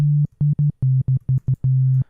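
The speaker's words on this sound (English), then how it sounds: "In default setting, what we'll basically get is a sine wave." A plain sine wave from an EXS24 sampler on its default setting, set up in mono, plays a low tone as a rhythmic run of short and longer held notes with brief silent gaps.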